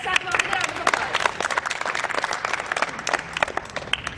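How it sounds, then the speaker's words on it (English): Applause from a studio audience at the start of a live news discussion show: fairly close, individually distinct hand claps in a lively, uneven patter, with some talking mixed in. "let's start with a round of applause"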